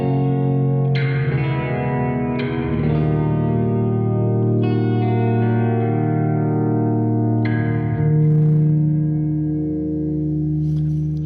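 Electric guitar through a NUX Verb Core Deluxe pedal with reverb level and delay turned fully up: a few slow picked notes and chords bloom into long, washy echoing tails that blur together and sustain loudly.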